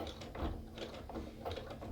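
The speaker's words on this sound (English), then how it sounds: "I'm gonna get it right back in my sewing machine. I'm gonna back stitch where the threads were cut." A sewing machine back-stitches through coiled rope on a basket base, giving a soft, rapid mechanical clatter of repeated stitching pulses at close range and fairly low level, with no talk.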